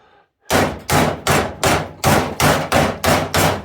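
Eight sharp, evenly spaced hammer blows ring out on a welded Mustang door lip being tapped into line, each a loud metallic clang after a brief quiet start, with no talking.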